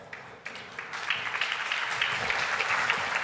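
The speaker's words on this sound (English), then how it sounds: "Can I get a big round of applause for Martin Iffert?" Conference audience breaks into applause for a CEO taking the stage at an energy transition event, a steady broadband wash of clapping that swells after a quieter opening moment and holds at full strength.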